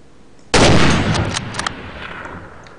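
A single loud gunshot in the video game Garry's Mod bursts out suddenly, followed by a few sharp clicks and a long decaying echo.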